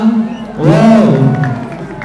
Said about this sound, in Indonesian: Mana pendukung Hareva, tepuk tangannya mana?